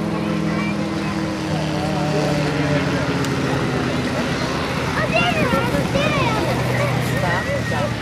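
A gyroplane with a rear pusher propeller flying at a rotorcraft fly-in, a steady droning engine and propeller hum with shifting pitch sweeps, while someone speaks over it throughout.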